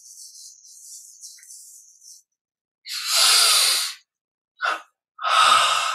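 Breathing during a guided yoga and meditation exercise, with a long soft airy exhale followed by a pause, then a strong close inhale, a quick short breath and another full breath, heard alone without talk.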